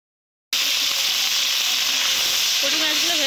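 Small whole puti fish fry in hot oil, a dense, steady sizzle that starts abruptly after a short silence and holds loud and close throughout.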